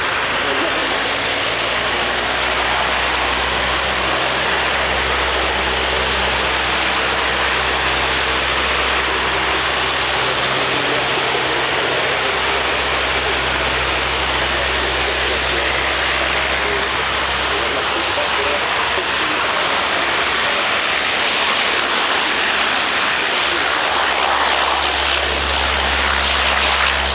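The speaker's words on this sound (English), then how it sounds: "the modern example, the Bréguet Atlantic ATL2" A Bréguet Atlantic ATL2 maritime patrol aircraft flies overhead at an air show, its propeller engines making a loud, sustained droning roar with a steady low hum and broad rushing noise that swells slightly toward the end.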